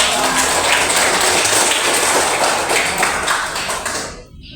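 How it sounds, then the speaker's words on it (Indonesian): An audience breaks into dense, continuous applause, a bright wash of many hands clapping together at a steady level before fading out in the final moment. "Berikan aplaus."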